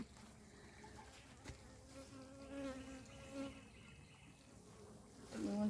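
Honey bees buzzing around an opened hive after a puff of smoke, a soft steady hum with individual bees droning close by now and then, faint throughout.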